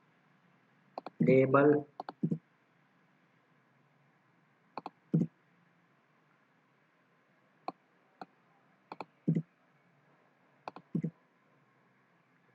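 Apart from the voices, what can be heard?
typing code on a computer keyboard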